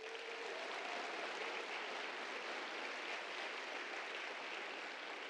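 Quiet, distant applause fills a MEX Talks 2024 event hall, a steady wash of many hands clapping at a constant level throughout, with a brief faint tonal sound near the start.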